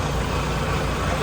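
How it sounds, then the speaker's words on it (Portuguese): A heavy truck reverses slowly during a lorry-driving lesson in Portugal, its engine giving a steady, close, low idling rumble throughout. "Aí o Marcelo tá dando a ré aqui"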